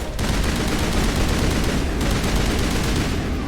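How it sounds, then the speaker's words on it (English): Dense, loud automatic gunfire from the Mass Effect video game fills the whole stretch, a continuous rapid crackle of shots with a brief dip midway, and no voices over it. "She must have phasic bullets or something, because she's shooting me through my barrier."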